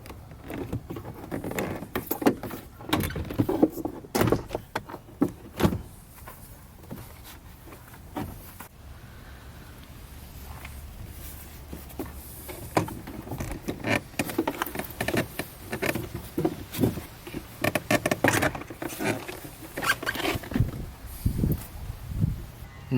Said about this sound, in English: You're gonna go ahead and go all the way around the door panel and pry up on the door panel.